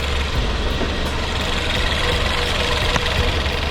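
A Ford 1.6L EcoBoost engine idles at a steady, even rumble after its cylinder head was replaced, a close, continuous drone with no voices over it.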